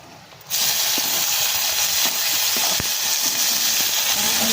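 Tomatoes hitting browned garlic in a hot frying pan, a loud, steady broadband sizzle that bursts in after a brief quieter moment and holds strongly throughout.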